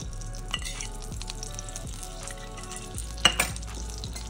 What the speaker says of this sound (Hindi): इसके अंदर हम 1 चम्मच जितना और घी डालेंगे।